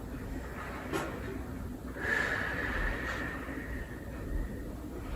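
A person slowly breathing in through the nose and out through the mouth during a quiet pilates recovery exercise, with soft, steady breath sounds and a faint rush of air standing alone.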